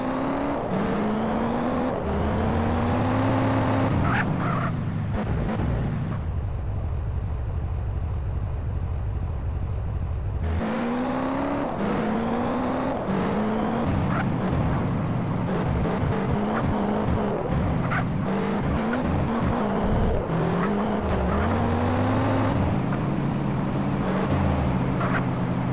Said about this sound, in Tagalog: Ngayon ay dalhin na natin itong sasakyan sa impound site.